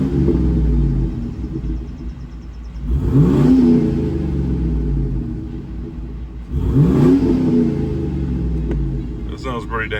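2003 Chevy Tahoe V8 with a 2.5-inch electric exhaust cutout left open, rumbling at idle and then blipped twice into loud, deep revs that rise and fall back, with a person talking over the engine.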